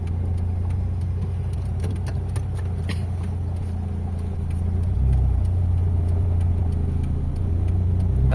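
A Mitsubishi Lancer GLXi engine idles steadily with a low, even hum that swells slightly about halfway through and holds there, close and continuous with no talking.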